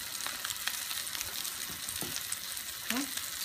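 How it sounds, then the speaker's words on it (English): Slices of Nutella French toast frying in a pan give off a soft, steady sizzle with a few small pops and light utensil clicks, faint and close, with no talk over it. "we're gonna let those fry just a little bit"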